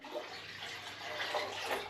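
Water pours steadily into a plastic cider brewing container, a continuous splashing gush that holds fairly even throughout without voices.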